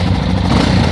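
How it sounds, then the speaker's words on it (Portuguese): A Yamaha Ténéré 660 motorcycle engine fitted with a new exhaust tip, running close and loud with a steady, throbbing low rumble for a brief moment. "Um novo escape."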